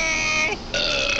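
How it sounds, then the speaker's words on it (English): A loud, drawn-out burp with a brief dip partway through, heard alone with no talking. "I even burped."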